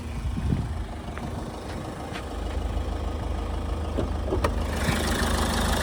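A steady low diesel engine rumble from a 2017 Ford EcoSport Titanium idles on without a break, with a few faint clicks and taps over the top and no voices.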